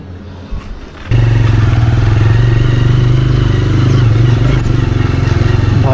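A motorbike ridden on the upper road toward Old Manali: after a quiet second, a loud, steady engine drone takes over and continues close-up with constant rumble and some rattling.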